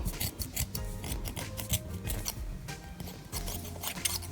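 Scissors snip close up through excess fabric and threads while a scrunchie headband is finished, a quick run of crisp, rhythmic cuts with rustling cloth and no talk.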